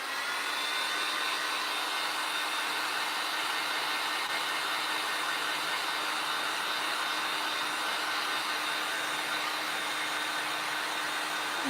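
A hair dryer blows at steady full power to dry one damp spot on a craft project, producing a loud, unbroken close-up whoosh that holds the whole time without any speech.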